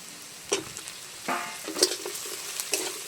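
Okra frying and being stirred with spiced onion, ginger and garlic in a pan, soft sizzling with several scraping stir strokes at a steady, moderate pace, close by.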